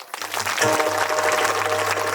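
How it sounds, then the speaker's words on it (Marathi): Audience applause at a Marathi kirtan, a broad burst of clapping that starts abruptly and carries on steadily at close range, with a sustained musical drone or tone running underneath. "जोरदार टाळ्या वाजवा."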